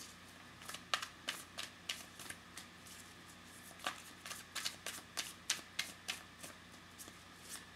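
Tarot cards being shuffled by hand, close and crisp, with a steady run of sharp riffling bursts repeating every half second or so over a quiet room.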